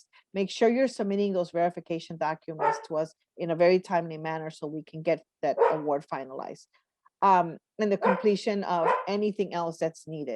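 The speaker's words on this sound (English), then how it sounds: "I apologize for my dogs barking" Dogs bark intermittently in the background of a home while a person talks steadily in the foreground, the barks mostly buried under the continuous speech.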